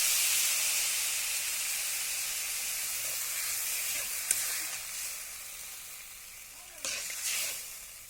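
Water poured into a pan of lightly fried raw potatoes with salt, giving a broad steady sizzle and hiss of steam that gradually fades, with a few brief clinks and stirring noises near the end.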